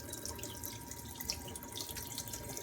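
Hot tap water runs in a steady hiss, splashing and spattering onto a hard plate, close by and continuous with no talking.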